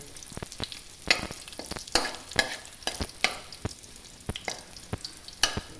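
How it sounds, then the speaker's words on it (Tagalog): Garlic and onion frying in a pan, a steady sizzle broken by sharp scraping stirs at irregular intervals, close and fairly loud, with no one talking. "Hintayin po natin na brown po yung light brown yung bawang at sibuyas."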